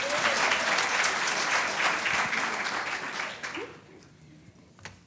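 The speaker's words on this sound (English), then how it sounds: "Let's give her a round of applause." Audience applause at a public lecture on AI technology, a dense burst of clapping that fills the hall then thins and fades over the last seconds, with a few scattered claps at the end.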